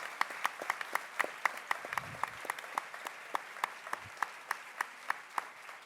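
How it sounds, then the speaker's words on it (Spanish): Scattered applause from a small group at an International Women's Day event, sharp individual claps in an uneven rhythm, fairly distant and moderate in volume. "pido un aplauso también por su presencia acá"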